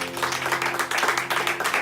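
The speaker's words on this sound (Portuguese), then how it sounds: "Bem forte as suas palmas ao Senhor Jesus." Church congregation applauding for Jesus during a worship service, a brief burst of steady, moderately loud clapping from many hands with a faint murmur of voices underneath.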